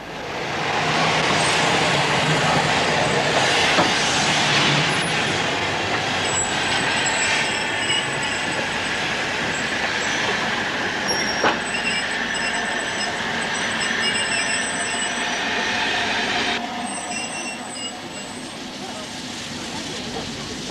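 A steam railway engine rumbles steadily with wheels clattering on the track, loud and continuous, with someone talking over it and occasional high squeals.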